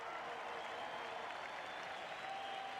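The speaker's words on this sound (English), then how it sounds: "Listen to the crowd." A cricket stadium crowd applauds in a sustained, even wash of clapping, distant and fairly faint, with no distinct voices standing out.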